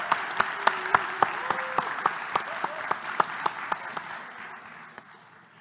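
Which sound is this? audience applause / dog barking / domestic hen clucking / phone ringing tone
audience applause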